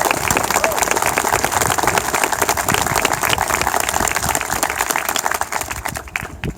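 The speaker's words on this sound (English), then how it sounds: "Please join me in a round of applause for our drill instructors and their families." A crowd at a Marine Corps recruit graduation at Parris Island applauds the drill instructors and their families with sustained, dense clapping and some crowd noise, tapering slightly at the end.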